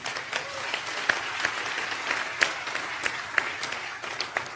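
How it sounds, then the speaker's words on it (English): A church congregation claps during a sermon, a sustained wash of many hands with a few sharper, louder claps standing out near the front. "You want to clap? Clap."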